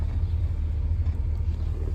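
A car engine idles steadily close by, a low continuous rumble with no revving, heard alone.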